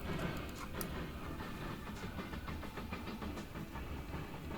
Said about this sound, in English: Brand new spanking train there.